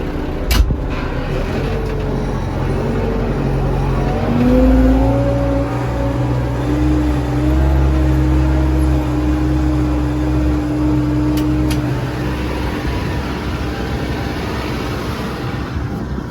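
A Lovol 1054 tractor engine pulls off in low-range first gear during ploughing, a steady diesel drone with a rising whine, loud and close, no voices.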